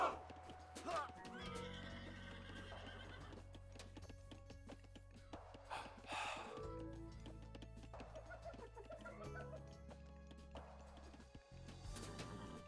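Horse archers in a strategy video game ride through with repeated loud neighs and whinnies over clopping hooves, amid layered battle sounds and scattered clucking fowl.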